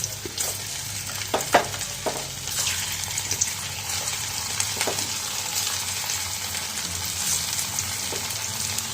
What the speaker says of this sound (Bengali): তারপর এগুলোও ভেজে নেব।